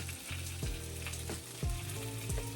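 A thick pat of butter, about a tablespoon, sizzles and crackles steadily in a hot skillet used for French onion chicken, a close, continuous frying hiss with a few brief stirring scrapes.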